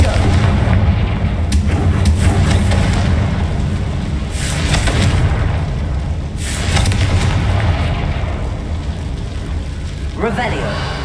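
A Confringo blasting spell in the game Hogwarts Legacy sets off repeated booming explosions over a loud, continuous rumble of gameplay noise, with a voice talking over it.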